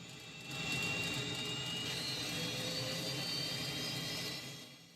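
The left jet engine of a Cessna A-37 Dragonfly spools up during startup, a loud rising whine and roar that swells in, holds steady with a high tonal hiss, then eases slightly.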